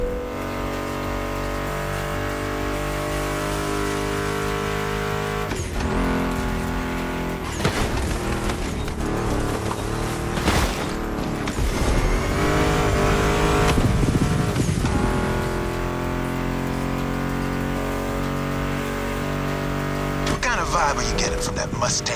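A Ford Mustang GT muscle car engine roars continuously in The Crew Motorfest, revving and shifting with tire squeals at times, loud under background music and a voice talking.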